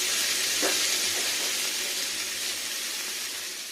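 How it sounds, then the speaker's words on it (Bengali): Beetroot and cauliflower pieces stir-frying in oil in a pan, a steady close hiss of sizzling that slowly fades, with one brief scrape of stirring near the start. "প্রথমে বিট ফুলকপি এগুলো একটু নাড়া দিয়ে নেবো"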